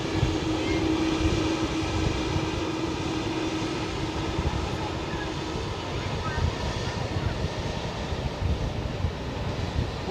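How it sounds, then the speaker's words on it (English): An Air Baltic airliner taking off from Zurich airport produces a steady, broad engine roar that holds throughout, moderately distant, with people talking over it. "here's our Air Baltic departure any second now"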